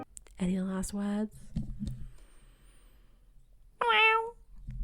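A person imitates a cat, voicing two drawn-out meows in a row, then after a pause a third higher-pitched meow.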